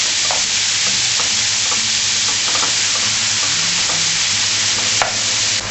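Lardons searing in a hot pan for a tartiflette: a loud, steady sizzle fills the whole stretch, with scattered crackles and stirring scrapes, close up and without talk.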